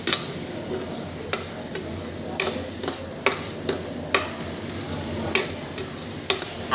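A spoon stirs mashed potatoes into pav bhaji gravy in a pan, tapping and scraping against the metal in a steady run of regular clicks over a soft continuous sizzle, with no voices.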